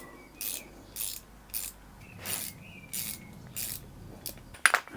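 A ratchet wrench tightens a 13mm bolt in a series of about eight sharp, close ratcheting bursts evenly spaced roughly every half second, ending with a brighter final click, with no talking.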